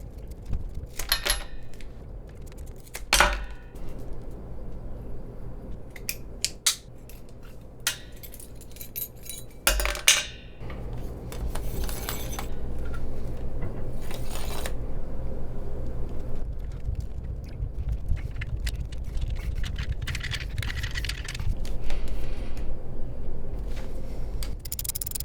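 A garden hose is cut and band clamps are fitted onto a barbed splice fitting, producing scattered close clicks, metallic jingles and handling rustles at an irregular pace, with no talking.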